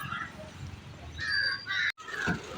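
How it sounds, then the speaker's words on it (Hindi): Crows cawing in a few short calls over a steady outdoor background on a mountain pilgrimage route, birds flying down to eat thrown food and perching on branches. "ये जो कौवे थे ये बढ़िया उड़ उड़ के आके खा रहे थे, फिर डाल पे बैठ जा रहे थे।"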